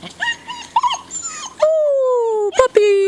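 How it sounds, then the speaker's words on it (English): A puppy whimpers and whines in high, drawn-out cries, close by, with a few short yips breaking in near the end. "Ooh, puppy!"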